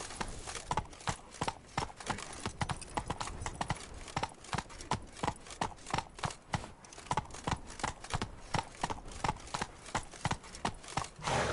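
Hooves beat in a fast, steady gallop throughout as a horse runs in The Witcher 3: Blood and Wine, each clop crisp and close with no speech.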